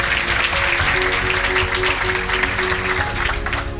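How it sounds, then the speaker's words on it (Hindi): Audience applause at a coaching-institute gathering honoring a successful student, a steady dense wash of clapping that stays loud throughout with no pauses. "तो इसलिए जोरदार ताली बजाएंगे आप।"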